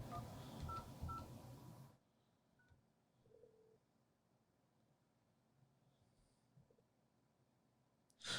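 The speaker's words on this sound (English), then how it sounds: "we'll dial the pound key to send the command" A 3CX desk phone keypad sounds a quick run of DTMF dialing tones, including the pound key, in the first two seconds, then near silence with a faint brief tone and a soft sound at the very end.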